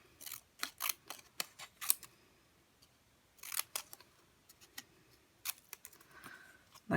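Scissors cutting around a stamped paper sun for a handmade card: bursts of crisp snips separated by quiet gaps, close and soft.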